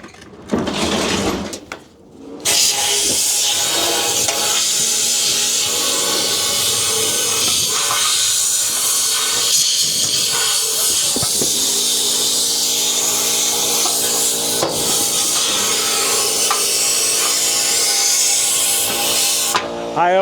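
Compressed air blasts steadily across a rusty Suzuki motorcycle part to dry it, a loud continuous hiss that runs almost without a break after a short opening spurt.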